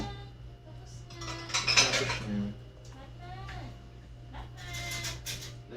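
Metal spoon scraping and clinking in a pot while tikka masala sauce is stirred by hand in a small home kitchen, with intermittent taps and clatter under a person talking.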